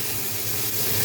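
Water poured into a hot pan of hilsa fish and eggplant curry gives a brief, steady, close hiss of steam and spray, with no voice.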